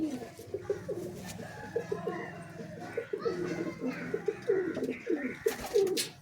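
Pigeons bred as long-distance flyers give a steady run of soft, repeated cooing calls close by, with children's voices faintly in the background.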